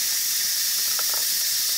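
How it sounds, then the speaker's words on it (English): A pressure cooker full of beans venting steam: a loud, continuous high hiss that goes on without a break, close by, with faint squeaks under it and no talking. "I'm going to let the pressure off"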